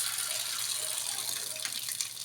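Tap water runs in a steady, close, continuous gush as it pours from the faucet into a shrimp cooking pan, with no talk over it.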